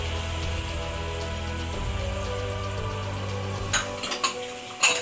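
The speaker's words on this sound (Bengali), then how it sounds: "রসুন বাটাটা আগে সাদা তেলে দিয়ে দেব" Garlic paste frying in white oil for an egg rezala, a steady crackling sizzle with a low hum beneath, ending in a few sharp clinks of a utensil against the pan.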